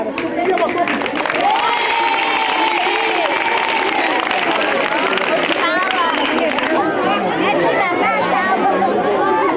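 A crowd at a school gathering in Isiolo county claps and chatters loudly and continuously, with voices talking over the applause before it thins out near the end.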